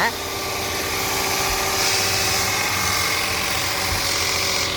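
A Kia K9 sedan engine idles with a steady low rumble and hum, constant and close, without noticeable revving.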